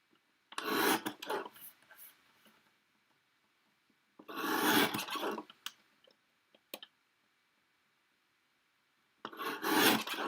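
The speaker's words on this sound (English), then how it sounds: "Using my guillotine trimmer here, try to get that cut." A guillotine paper trimmer slices a slim paper tag in three separate scraping strokes, with near silence between cuts.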